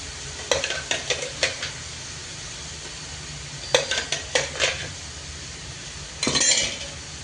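Noodles tossed with tomato chilli sauce and soy sauce in a pan; a spatula scrapes in quick rhythmic bursts of strokes, separated by pauses, over a low background hiss.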